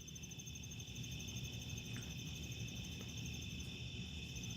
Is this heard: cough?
no